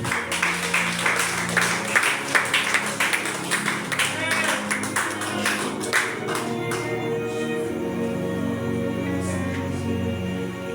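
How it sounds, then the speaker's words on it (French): A church congregation claps in steady rhythmic bursts during worship, the sharp claps loud at first and then fading, with talking and music-like tones beneath. "Applaudissez Seigneur"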